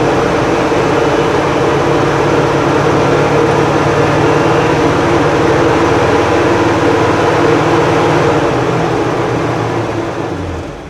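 A Cummins 4BT diesel truck engine idling after a cold start: a loud, steady low rumble that runs continuously for about eleven seconds and fades slightly at the end, with no talking.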